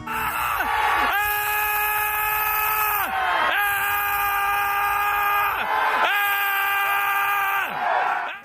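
A group of video game developers screams at full voice in a public park in San Francisco, three long sustained shared yells, each lasting a couple of seconds and separated by short breaths, loud and close.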